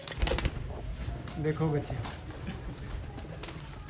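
Pigeons give a short cooing burst at close range among flight pigeons, with someone talking over scattered background noise.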